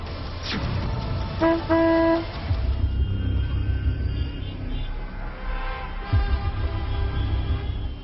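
Short car horn toots sound twice early on amid steady traffic rumble, followed by a deeper vehicle pass later.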